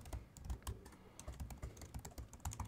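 Rapid, quiet clicking of keys on a computer keyboard as a password is typed, a quick irregular run of close taps with no talking.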